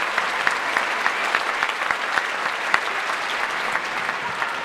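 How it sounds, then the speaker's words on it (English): A school audience applauds Mr. Hall with a dense, steady round of clapping, many hands at once, sustained and fairly loud throughout, with no speech over it. "everybody give Mr. Hall a huge round of applause"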